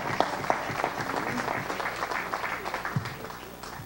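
Dense, steady applause from an audience greeting Cayetana Aljovín, the newly named Peruvian Minister of Development and Social Inclusion in Pedro Pablo Kuczynski's cabinet, sustained for several seconds at a moderate level.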